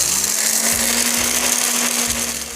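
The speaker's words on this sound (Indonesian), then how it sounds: "masukkan pakis yang sudah dikeringkan tadi ke dalam grinder. Kemudian kita haluskan sampai benar-benar halus sesuai kebutuhan." A grinder runs steadily as it pulverizes dried fern (pakis) into fine powder, giving a loud, continuous whirring drone with a faint rhythmic pulse and no voices.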